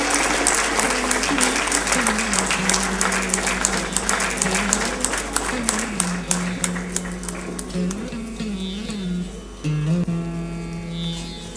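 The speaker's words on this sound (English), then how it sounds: "A big round of applause for the historic tie-up." An audience claps at a signing ceremony for a memorandum of understanding, sustained applause running under music and background voices, thinning toward the end.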